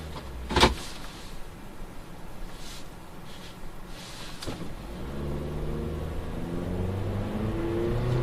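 2014 Toyota Corolla with a CVT pulling away in sport mode, engine drone building steadily into a sustained rising hum inside the cabin, preceded by a couple of sharp clicks, moderately quiet with no talk.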